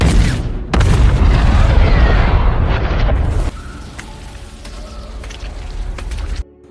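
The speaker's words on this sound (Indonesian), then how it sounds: "Ledakan itu sangat dahsyat." A massive explosion from a giant robot film, the nuclear blast destroying the robot Striker Eureka, bursting in with a loud deep boom and sustained roaring rumble, then dropping to a quieter crackling tail before cutting off.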